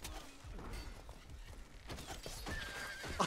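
A horse neighs amid medieval battle noise in the War of the Roses: Kingmaker video game, a loud whinny rising near the end over constant clashing and background din.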